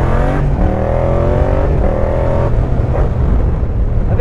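A motorcycle fitted with a full aftermarket exhaust line revs close by, its engine note climbing and dropping in several short pulls over a steady loud idle rumble.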